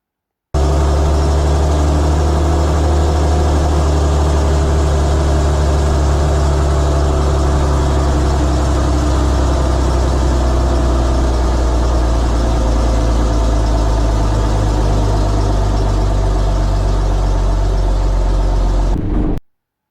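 An AEC Militant truck's heavy diesel engine labours steadily as it climbs a hill on a country road run, a loud, continuous low rumble from inside the cab that holds for nearly twenty seconds before cutting off abruptly.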